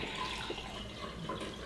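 A drink being poured into a glass, a steady liquid trickle running at low level for a couple of seconds with no talk over it.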